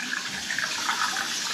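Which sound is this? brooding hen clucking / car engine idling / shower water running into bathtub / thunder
shower water running into bathtub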